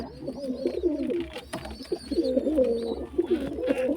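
A loft of Madrasi and desi pigeons keeps up a dense, continuous chorus of rolling coos close at hand, with faint high chirps woven through and no voices.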